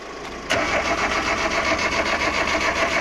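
A ZAZ car engine turns over during a jump start, giving a sudden loud burst that settles into a steady, close mechanical running drone.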